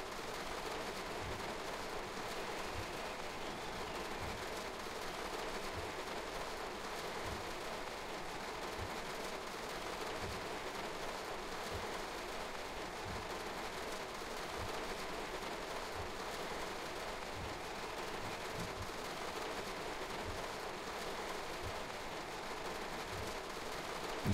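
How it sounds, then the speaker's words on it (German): Steady rain in the Train Sim World 3 train simulator during a storm on a Ruhr line, a continuous even hiss of falling water throughout, with soft repeated low thumps and no distinct thunder clap standing out. "Es blitzt und donnert und regnet nach wie vor."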